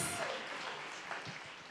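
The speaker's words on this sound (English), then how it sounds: "Please give them a big round of applause" An audience applauds at the DC Mayor's Arts Awards ceremony, a steady wash of many hands clapping that carries evenly throughout.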